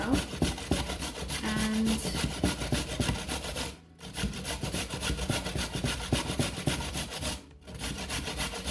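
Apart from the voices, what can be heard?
grating an unpeeled carrot into a bowl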